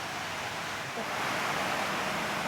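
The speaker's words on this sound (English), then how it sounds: "late at night with the rain pouring down." Steady, dense rain pours down heavily at night outside a pub, a continuous broadband hiss with no pauses, close and loud throughout.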